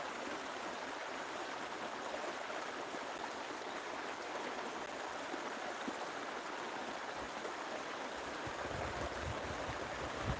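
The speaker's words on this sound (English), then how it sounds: "Love the sound of water." Water flows steadily along a stream on rural land, a continuous close rushing and babbling wash that stays even from start to finish with no voices.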